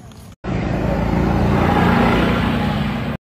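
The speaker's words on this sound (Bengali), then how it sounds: "ঋতু কার রেসিং করবে" A car racing ride roars into motion after a brief silence, its engine a loud, close, sustained drone that holds steady until it cuts off abruptly.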